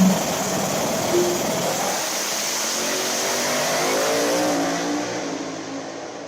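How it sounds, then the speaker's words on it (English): A drag race car on radial tires, the old Rogue 405 car, roars loudly down the lane as it accelerates hard, a sustained engine blare that holds steady before easing off at the end. "that's Michael Nell in the far lane with the old Rogue 405 car on radials now"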